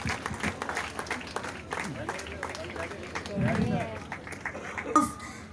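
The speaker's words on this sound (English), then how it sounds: "A big round of applause, Duraya Lokhandwala." Applause for a race winner at the Rotary Rain Run prize distribution, a dense patter of clapping running steadily under someone speaking over a public address system.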